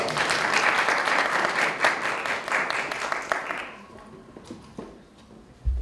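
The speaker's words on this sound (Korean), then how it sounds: "네, 큰 박수 부탁드립니다." An audience at a Korean university student council election hearing claps in a dense, even burst of applause that fades after about four seconds, leaving a quiet room with a few faint taps.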